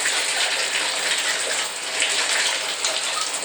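Shower water sprays steadily into a bathtub where dishes are being washed, a loud continuous hiss and patter close by with no voices.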